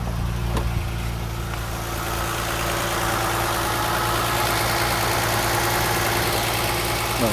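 A Mercedes R107 280SL runs at a steady idle of about 1100 rpm after repair of its faulty fuel distributor, a continuous even engine drone heard up close with no speech.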